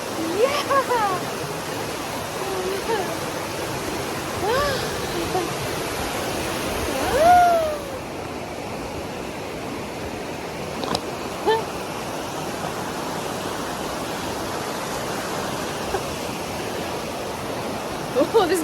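A river rushes next to a rock crest near Laurel Falls waterfall, a steady broadband roar filling the whole stretch, with brief voices talking over it now and then.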